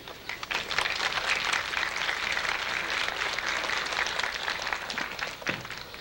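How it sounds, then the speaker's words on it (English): An audience claps for graduating students at an eighth-grade graduation, a dense sustained burst of applause filling the room at moderate loudness with no break. "have you acknowledge them with a round of applause"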